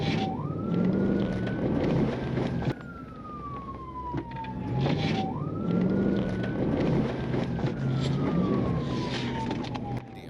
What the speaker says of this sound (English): The sirens and lights of the officer right behind him were so intense they were almost hypnotic.